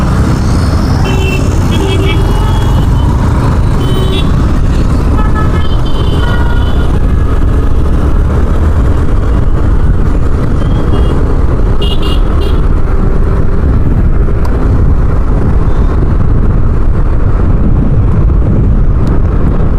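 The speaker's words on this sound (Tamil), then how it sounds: "இப்பயும் ஓஎம்ஆர் ரோட்லாம் செம்ம டிராஃபிக்கு" Heavy road traffic on OMR road in Chennai, a dense continuous roar of engines and wind buffeting close to the microphone, with faint horn toots mixed into the steady noise.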